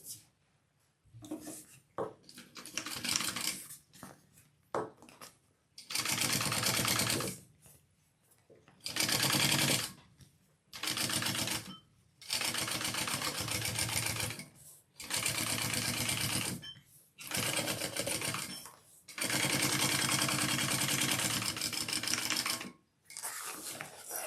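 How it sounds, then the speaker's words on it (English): A sewing machine top-stitches a handbag lining in several steady, whirring runs of varied length, separated by short pauses. It sounds close but fairly quiet. "we are going to top stitch along this lining piece here"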